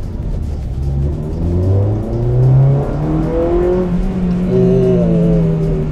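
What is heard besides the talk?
Honda Civic Type R VTEC engine revving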